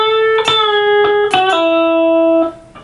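Electric guitar playing a short melodic lick, with a few picked notes, a bend and a pull-off, clear and close with a sustained final note fading out.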